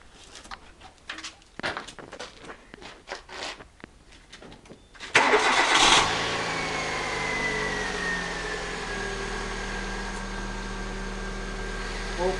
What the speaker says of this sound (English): I'm just going to go and start the vehicle